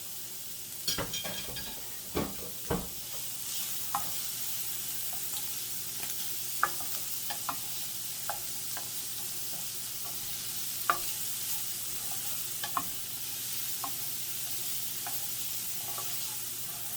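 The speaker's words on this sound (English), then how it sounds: "I'm just going to add our onions and our peppers." Onions and peppers frying in a pan with cooked sausage for breakfast enchiladas, a steady soft sizzle broken by a few sharp stirring clatters and pops, fairly quiet and close, with no talking.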